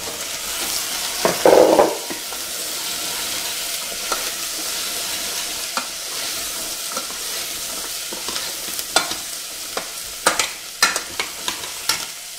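Green peas tumble into a hot pot with thyme, a brief loud rush, then a steady sizzle with scattered scraping clicks of a spoon stirring, close up and without talk.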